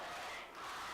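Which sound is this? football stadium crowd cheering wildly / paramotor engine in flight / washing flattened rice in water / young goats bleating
football stadium crowd cheering wildly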